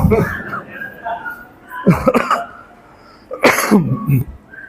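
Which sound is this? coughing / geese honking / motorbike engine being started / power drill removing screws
coughing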